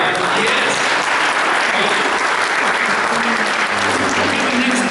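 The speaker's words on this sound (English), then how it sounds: "let us give you all a round of applause" Audience applause for participating educators fills a broad, steady wash of clapping lasting the whole stretch, loud and continuous, with faint low murmurs underneath near the end.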